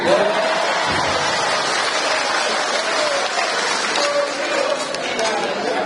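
Crowd applauding at a dialogue with farmers in a village sports hall, a dense, even roar of clapping filling the space, with voices heard underneath.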